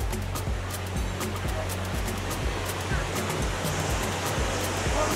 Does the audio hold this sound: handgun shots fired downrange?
no